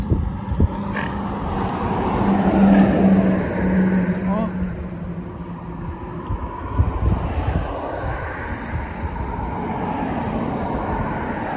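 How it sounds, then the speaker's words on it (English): A big lorry drives past on a road, its engine rumble swelling and fading amid wind buffeting on the microphone while someone talks over it. "Nice big old lorry flying up here now like this"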